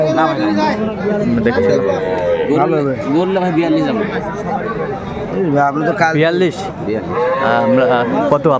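A cow with her calf moos in long, drawn-out calls at the Aftabganj cattle market, loud and close over a steady babble of crowd chatter and people talking.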